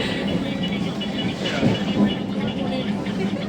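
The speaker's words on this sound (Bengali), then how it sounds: "ফাইনালি আমাদের ট্রেন চলে আসে আর আমরা ট্রেনে" A local train runs with a continuous, moderately loud rumble and rattle of the carriages, a muffled steady rolling noise with faint voices mixed in.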